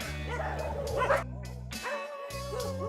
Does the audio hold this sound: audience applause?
no